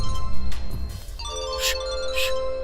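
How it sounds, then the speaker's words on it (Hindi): A mobile phone ringtone chimes with a sustained electronic tone, mixed with background music and brief noisy bursts. "रुक्कू का फोन है।"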